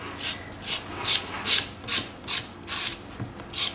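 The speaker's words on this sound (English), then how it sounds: "it's very quickly scratching the nail surface" A 100 grit buffing sponge scratches across a nail surface in quick, rhythmic rasping strokes, about nine close, even passes with no talk.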